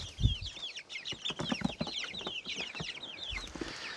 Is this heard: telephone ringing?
no